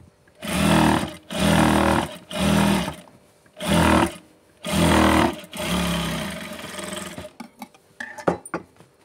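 A sewing machine stitching a blouse petticoat runs in five or six loud, even bursts of rapid whirring, each a second or so long with short pauses between, then a longer run and a few clicks.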